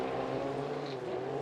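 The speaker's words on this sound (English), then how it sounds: "he's running in a Trask GTR hull, and it's got the brand new V6 4-stroke" A Mercury V6 four-stroke race engine on a Trask GTR race boat drones steadily at high revs, a constant close roar with no break across the short burst.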